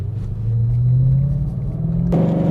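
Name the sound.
car with Borla exhaust downshifting going uphill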